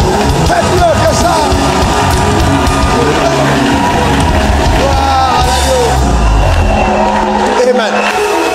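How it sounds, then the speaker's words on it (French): A church congregation cheers and acclaims loudly in praise, a dense, continuous roar of shouting and yelling voices with whoops rising over the crowd noise. "acclamez très fort le Seigneur"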